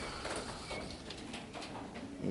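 Young racing pigeons coo softly in a loft, a low, faint murmur of calls over a brief stretch.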